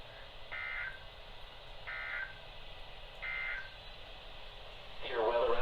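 NOAA Weather Radio weekly test alert tones from new radio receivers: three short, loud, evenly spaced electronic beeps about 1.4 seconds apart, followed by the start of a broadcast voice.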